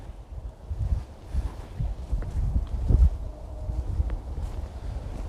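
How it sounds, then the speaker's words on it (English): Wind buffets the microphone in low, uneven gusts during a summer walk through a Scottish village by the Kessock Bridge, with a steady outdoor hush behind it. "It's a little bit windy now and a lot cooler than it was."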